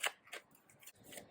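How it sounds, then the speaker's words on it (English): A deck of playing cards is shuffled overhand, giving four or five soft, quick papery slaps in an uneven rhythm, close and quiet, with no talk. "I'm not a riffle shuffler, I'm just an overhand shuffler"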